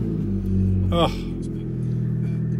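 An Abarth 695 70th Anniversario's engine runs at a steady idle with a low, even hum, and a person briefly exclaims over it partway through.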